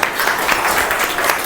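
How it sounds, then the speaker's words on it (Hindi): A group claps for a girl at a teacher training camp, a steady broadband wash of many hands sustained throughout at moderate loudness, with no clear talk over it. "उसको ताली बजाओ उसके लिए"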